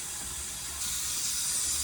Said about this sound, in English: So as you can see, it's steaming really, really good.